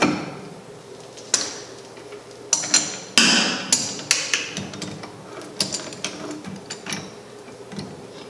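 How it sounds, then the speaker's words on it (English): Cast iron skillet set between the reversed jaws of an 8-inch lathe chuck, heard as a series of sharp metallic clanks and taps, irregular and close, with quieter rattles in between. "So I will place the skillet in between the jaws."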